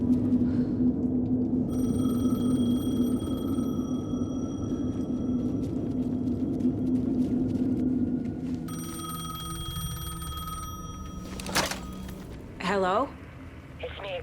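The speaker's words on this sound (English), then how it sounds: "The payphone was ringing." A payphone rings in the Alan Wake II video game, sustained electronic bell tones over a low droning ambience, followed by a receiver pickup clatter and a brief pitched electronic warble.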